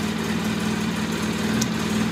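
A small engine idles in a garage, a steady low hum with a regular pulsing throb, close and even throughout with no talk.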